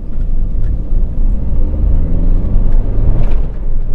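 A Peugeot 208 pulls away from a standing stop in second gear, its engine a steady, close rumble that holds throughout with no voices over it.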